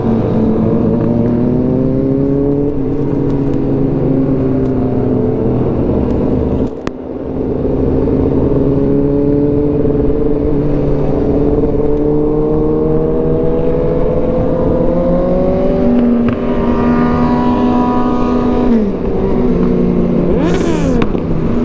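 Motorcycles riding fast in a group, an ADV160 scooter among big bikes: a steady, loud engine drone with rising and falling revs fills the whole stretch, with a brief dip midway and a short high whine near the end.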